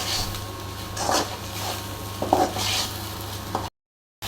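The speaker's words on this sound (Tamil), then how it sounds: "நல்லா வதக்கிடுவோம் அந்த பிசு பிசு தன்மை இல்லாமல்." Okra sautés in a pan, a soft steady sizzle broken by a few scraping stirs of the spatula, then a brief silence at the end.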